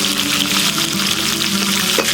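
Onion frying with green chilies in hot oil for a village-style idli sambar makes a dense, close, continuous hiss and bubbling that stays even for a couple of seconds, with no talk.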